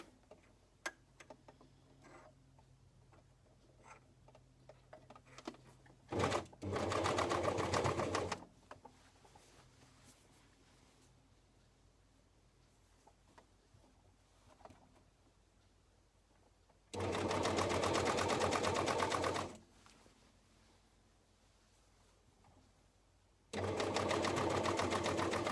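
Coverstitch machine sewing a knit neckline band, running in three loud, steady bursts of a couple of seconds each, separated by quieter stretches of faint handling clicks and light ticking.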